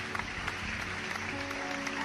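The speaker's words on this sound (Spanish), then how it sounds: "Un aplauso fuerte al Señor." Congregation applauding God during a church service, a dense steady clapping from many hands at moderate distance, continuous over the short span.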